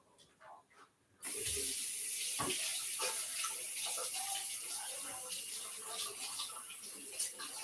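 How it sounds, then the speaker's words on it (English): Tap water runs steadily into a sink as hands are washed, a continuous close hiss starting after a brief pause and lasting to the end, with small splashes throughout. "Wash my hands."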